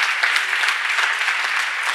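An audience at an award ceremony for a readers' trophy claps loudly and steadily, a dense crowd of hands sounding close and continuous for the whole moment.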